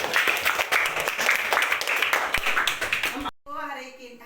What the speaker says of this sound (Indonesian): tepuk tangan untuk anak ibu.